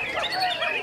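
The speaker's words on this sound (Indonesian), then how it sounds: "Burung-burung terlatih tersebut langsung mengeluarkan kicauan dan suara merdu bersahut-sahutan." Trained songbirds hung in cages at a bird-singing contest, their bright chirps and trills overlapping in a brief, busy burst with no voices.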